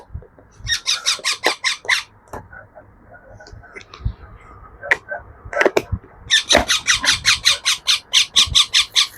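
Two baby parakeets squawk for food being prepared for a syringe, loud close bursts of rapid rhythmic calls that come in long runs, pause with a few clicks and scattered cries, then start up again.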